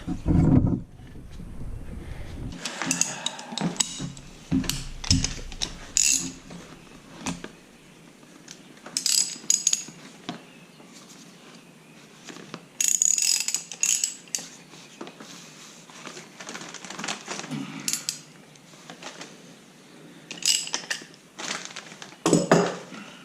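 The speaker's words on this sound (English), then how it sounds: "I used my socket to break it free from this mount" Wrench and socket working loose a rear shock absorber bolt on a 2010 Mazda 3, with repeated ratcheting clicks and metallic clanks in bursts across a close, hands-on scene, no talking.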